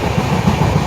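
A train rolls along, heard from an open carriage doorway as a loud, steady rumble with faint rhythmic clatter and no talk.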